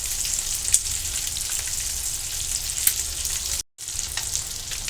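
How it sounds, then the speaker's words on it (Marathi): Eggs fry on low gas in a pan, sprinkled with turmeric, giving a steady close crackle and hiss with small pops, interrupted by a brief dropout near the end before the sizzle resumes. "लो गॅसवरती आपण हे फ्राय करून घेणार आहोत दोन्ही बाजूनी फ्राय करून घेणार आहोत"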